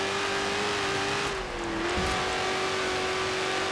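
Engine of a stock 2018 Dodge Challenger SRT Demon in Forza Horizon 4 drones at a steady, loud pitch throughout, with a brief dip and shift as a gear change comes through midway.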